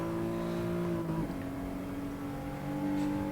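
Race car engine in Gran Turismo Sport holding a steady high drone, its pitch dropping sharply as the car overshoots a corner, then settling at a lower note before climbing again.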